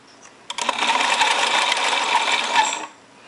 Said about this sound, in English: So I'm going to stitch there down to here. And then I'm going to back stitch.